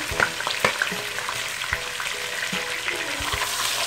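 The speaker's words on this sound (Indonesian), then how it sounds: "Sekarang kita goreng bawang merahnya terlebih dahulu" A steady oily sizzle of shallots frying in oil fills the clip, with occasional clicks and light stirring taps, close and continuous with no talking.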